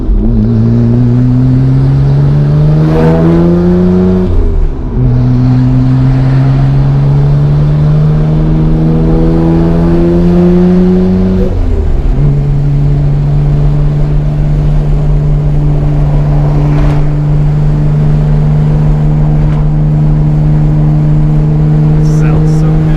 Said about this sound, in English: I love the sound of that exhaust